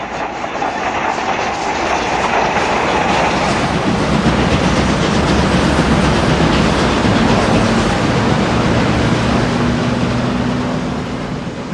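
A steam train, the Outeniqua Choo-Choo between Knysna and George in South Africa, rumbles steadily past, with a dense continuous roar and faint clattering of the wheels, loud and close throughout.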